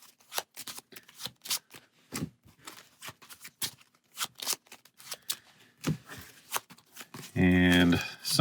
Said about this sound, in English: somewhat difficult to shuffle 3 cards together